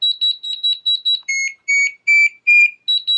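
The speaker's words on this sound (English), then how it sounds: "The number of beeps indicates levels of 1 through 4, with 4 being the highest." A controller sounds a string of short, loud electronic beeps, first quick higher-pitched pips, then several longer lower tones, then quick pips again, signalling a braking level setting.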